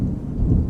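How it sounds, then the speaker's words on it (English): Deep thunder rolls from the video game Terra Nil, a heavy low rumble that sounds distant and holds steady through the short stretch with no talk. "you can hear the thunder rumbling there in the distance"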